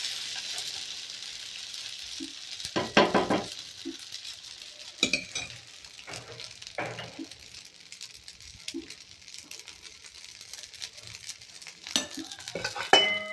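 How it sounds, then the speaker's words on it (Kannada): Dosa roasting on a pan over medium heat, a low steady sizzle beneath repeated clinks and scrapes of a spatula against the pan, with small bursts of crackle, no talking. "ಮಧ್ಯಮ ಉರಿಯಲ್ಲಿ ಮಾಡಿದರೆ ದೋಸೆ ಒಳ್ಳೆ ನಮ್ಗೆ ಬೇಕಾದಷ್ಟು ರೋಸ್ಟ್"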